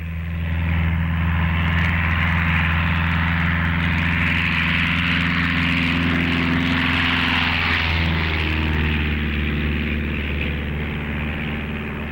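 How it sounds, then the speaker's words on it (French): A propeller airplane, sent out to scout a passage through Antarctic ice, drones steadily overhead, its engine hum loud and continuous throughout with no voices. "Il fait envoyer un avion pour trouver un passage."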